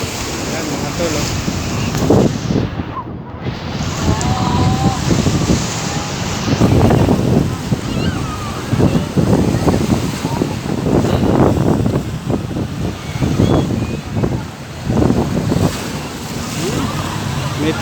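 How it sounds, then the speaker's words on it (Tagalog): Strong ocean waves at high tide crash onto a beach in repeated heavy surges, loud and close, with spray and a constant roar between breakers. "Lakas ng alon, mga tol, oh."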